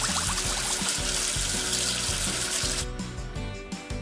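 In a children's video game, running water from a tap splashes steadily over a bouncy music backing, then the flow cuts off and the music carries on.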